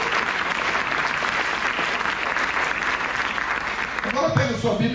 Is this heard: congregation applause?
yes